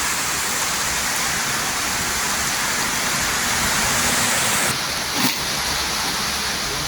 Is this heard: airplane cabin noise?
no